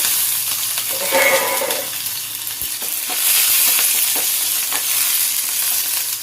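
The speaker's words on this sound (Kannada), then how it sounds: "ಹಸಿಮೆಣ್ಸಿನ್ಕಾಯಿ ಹಾಕ್ಕೊಂಡು ಸ್ವಲ್ಪ ಫ್ರೈ ಮಾಡ್ಕೋಬೇಕು" Mustard seeds, urad dal, chana dal and green chilies fry in about two spoons of oil for a grated raw banana palya. A steady, close sizzle and crackle runs throughout, with soft stirring and no talk.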